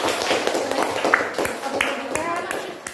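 Students in a classroom clap together in quick, sharp, fairly regular bursts at close range, with a teacher's voice mixed in among the claps.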